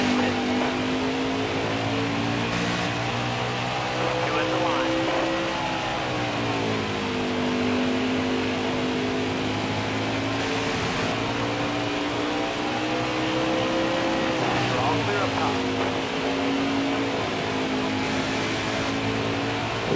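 Pickup trucks racing in a Craftsman Truck Series event at Bristol Motor Speedway, with engines droning and rising and falling in pitch as they circle the track, a continuous roar with no voices.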